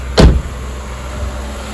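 A 2007 Chevrolet Malibu Maxx idles while warming up after a radiator replacement, a low steady engine hum that follows a single loud thump at the start, with no voices.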